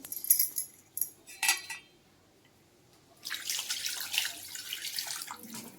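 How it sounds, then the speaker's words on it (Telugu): Tamarind juice is poured into a pot of fish curry, with a few short liquid splashes at first, then a longer, steady pouring trickle close by. "ఇప్పుడు చింతపండు పులుసు పోసుకున్నామండి"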